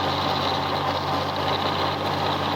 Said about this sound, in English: This is a gas tractor. I'd almost say it had bad coil, but it only does this more when it warms up.